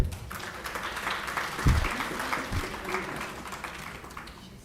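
An audience at a university teaching and learning festival gives a round of applause, with moderate, uneven clapping and a few louder thumps near the start that gradually thins out toward the end.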